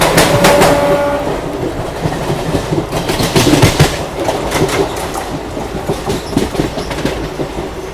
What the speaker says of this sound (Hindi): क्या ट्रैक साउंड है गजब का।